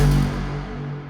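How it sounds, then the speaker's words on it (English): Solo synth bass note from music production software, a deep sustained tone with strong low harmonics that fades gradually over about a second, with no voices. "So I'll solo this bass sound."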